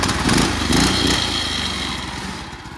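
A Predator 212cc small engine on a Yerf Dog go-kart runs on choke up on jack stands, a loud, close, steady mechanical chug with slight surges in the first second before settling and easing a little.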